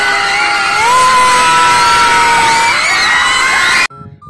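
Students scream, whoop and cheer loudly as teachers perform a dance at a school event, a sustained shrill crowd roar with rising voices that cuts off abruptly near the end.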